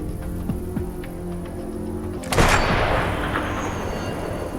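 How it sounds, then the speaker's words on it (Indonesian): A sniper rifle gunshot in a war film about Ukrainian snipers: one loud, sharp blast bursts out suddenly after a low steady hum, followed by a broad rumbling decay that lingers to the end. "Ia pun merekam aksinya sebelum pada akhirnya melepaskan sebuah tembakan yang begitu dahsyat"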